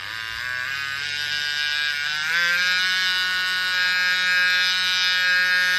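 Electric nail file drill running at full speed on acrylic nails, a loud, steady high-pitched whine that climbs in pitch partway through and then holds, close and continuous with no talking.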